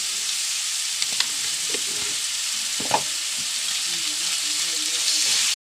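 Ginger and chopped garlic fry in oil in a pan while chicken curry is cooked, giving a loud, steady sizzle. A few utensil scrapes and clinks sound over it, and the sizzle cuts off sharply at the end.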